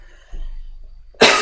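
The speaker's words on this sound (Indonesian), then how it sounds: "videonya banyak batuk-batuknya ya" A person with a sore throat lets out a harsh cough at close range, one short loud burst after a quieter throat noise, alone.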